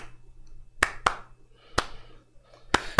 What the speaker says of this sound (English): Maybe we need some hand claps.